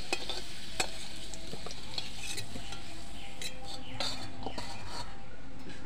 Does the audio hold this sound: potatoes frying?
yes